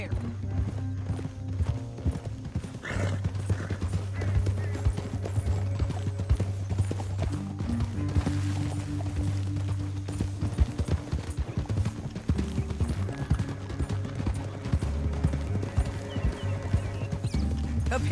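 Horse hooves clip-clopping in a Western video game, a steady rhythmic trot that runs throughout at close range beneath background music.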